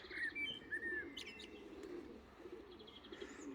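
A racing pigeon coos and chirps softly at its loft, with brief wing flutters and other faint bird calls over a steady outdoor background.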